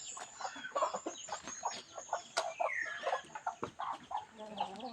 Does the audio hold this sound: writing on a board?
no